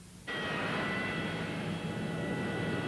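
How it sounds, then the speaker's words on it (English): Dukakis campaign airplane arriving in Boston, its jet engine roar cutting in abruptly and then holding a loud, steady whine with high tonal tones and no talking. "The Dukakis plane finally brought the Democrats home to Boston."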